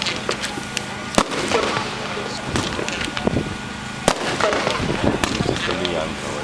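A Winda fireworks cake fires at a night display, a rapid string of crackling pops and bursts with two sharper booms, heard from moderate distance under faint crowd voices.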